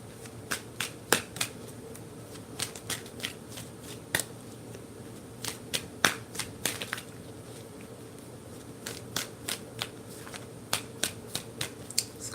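Tarot cards shuffled by hand indoors, a series of crisp riffling bursts in irregular clusters, close and fairly quiet over a faint background hum.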